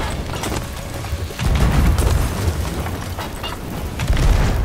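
Cannon fire in Sea of Thieves during an at-sea ship battle, heavy low booms landing around the 1.4 and 4.3 second marks over a continuous roar of ocean and ship noise, with no talk.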